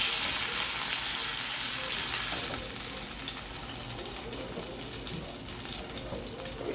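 Seared pot roast meat added to a hot pot, a loud spitting sizzle that slowly eases into a steady frying hiss, with no voices.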